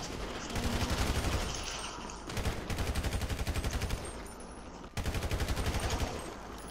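Gunfire in GTA: bursts of rapid automatic shots in three rhythmic volleys separated by short pauses, loud and close.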